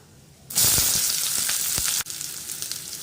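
Finely chopped medium onion hits hot oil for a brinjal and Bengal gram dal kootu, bursting into a loud, bright sizzle that holds steady, then drops abruptly to a softer continuing crackle.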